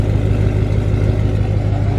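A 2020 Duramax diesel truck fitted with Exergy 100% over injectors runs steadily with a deep, throaty rumble and a constant low drone, up close and with no voices.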